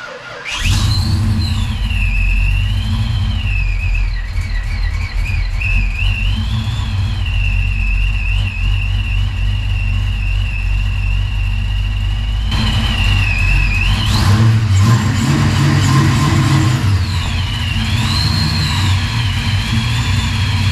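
A 1987 Fox Body Mustang Stalker convertible that has sat unused for a while cranks and fires with a belt squeal, then settles into a loud, steady, rumbling idle. A high wavering squeal rises and falls over the engine at close range.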